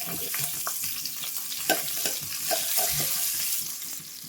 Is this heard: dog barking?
no